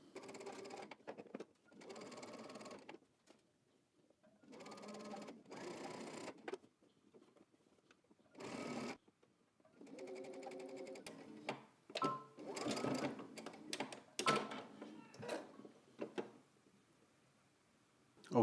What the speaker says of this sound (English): we're going to head to the machine and we're going to stitch right in the ditch